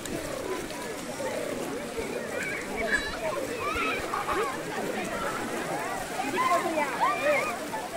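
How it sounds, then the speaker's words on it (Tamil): Water from a waterfall splashes and rushes steadily at close range, with a continuous broadband roar running under people talking excitedly nearby. "இதுதான் அருவி"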